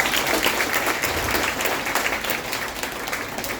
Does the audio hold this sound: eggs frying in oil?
no